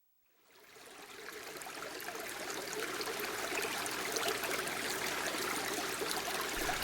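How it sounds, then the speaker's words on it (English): Spring water gushing from a rock crevice deep in the Chugoku Mountains, a steady broadband rush that swells in over the first second and then holds constant, close and fairly loud with no voices. "you'll find a spring that gushes forth from a crevice"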